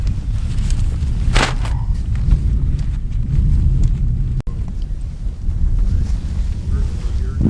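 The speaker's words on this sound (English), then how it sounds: "we got just enough wind to move them" Outdoor wind at a snow goose hunt rumbles and buffets the microphone in low gusts, with footsteps and soft rustling nearby and brief bits of talk.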